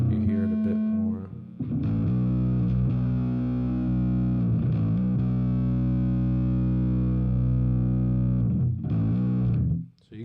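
A Billy Sheehan 30th Anniversary Attitude bass guitar on the full neck pickup rings out in long, sustained, gritty notes, with a short phrase at the start and a renewed attack near the end, close and loud with no talk.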